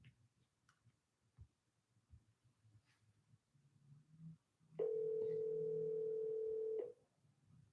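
A phone dial tone after a call is hung up, a steady loud tone holding for about two seconds after faint ticking and muffled background noise.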